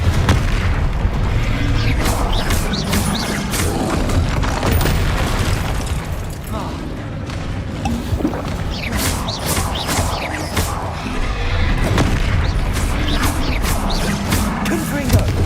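Confringo fire-spell explosions in the Hogwarts Legacy video game, with dense, continuous booming blasts and crashing impacts, loud and close throughout alongside other game combat noise.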